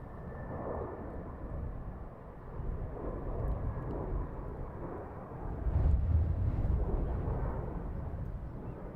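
A plane banking left near London Heathrow Airport gives a low, steady rumble that swells slightly toward the end, heard at a distance amid wind noise with no talk.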